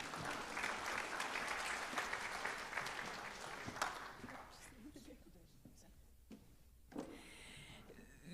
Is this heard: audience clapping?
yes